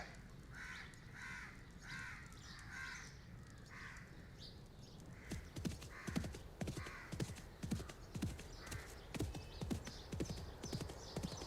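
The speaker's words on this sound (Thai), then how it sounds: "ทำวิธีขี่ม้าได้ แต่ว่าหยุดมันไม่ได้อะ" A ridden horse's hooves clip-clop in a steady trotting rhythm, growing louder and closer, while crows caw in the background.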